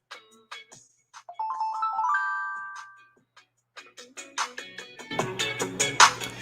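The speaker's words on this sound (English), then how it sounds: "hold on, man, these damn notifications." Phone notification chimes ring out in a rising run of bright tones, followed by scattered clicks and taps. A voice then starts talking over them at close range.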